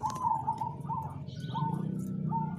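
A zebra dove (perkutut) coos in a repeated soft rhythmic series of notes, close and fairly clear against faint background noise.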